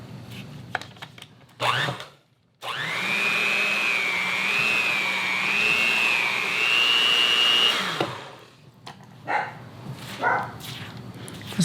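A stand mixer works sticky shortening and flour into pie crust dough, its motor whining steadily for several seconds between clattering bowl and utensil knocks before cutting off.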